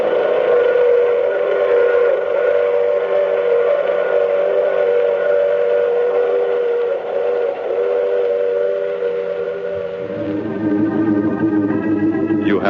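A steam train rumbles steadily in a radio drama, its whistle chord sustained and loud throughout, rising into a brighter blast near the end.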